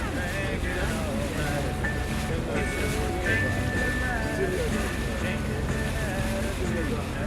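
A boat rocking at sea off a long sandy spit in Hamilton, Australia, with a continuous wash of wind and water against the hull and faint voices in the background.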